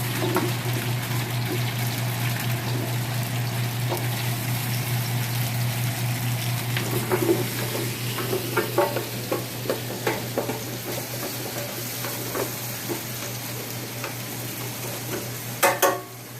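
Onions and carrots cooking in a pot for pot roast: a steady close sizzle runs throughout, with scattered scraping stir clicks and a few louder clatters of a utensil against the pot toward the end.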